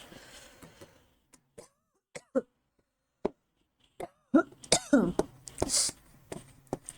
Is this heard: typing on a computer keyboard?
no